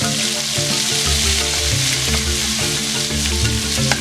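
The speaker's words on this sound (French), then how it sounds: "on va passer à la cuisson directement dans la casserole en commençant par les oignons" Steady, loud sizzling of onions frying in hot oil in a pot, a continuous crackle with no talking.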